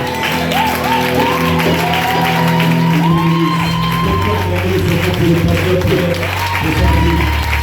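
A church congregation at a worship event claps and cheers in a loud, continuous wave, with shouts and whoops rising over sustained tones and voices.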